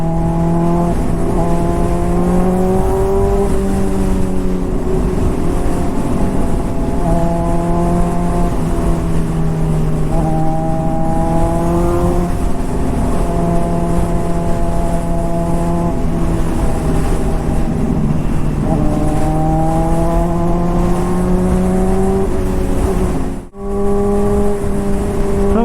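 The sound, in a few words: Honda CBR600RR motorcycle riding in traffic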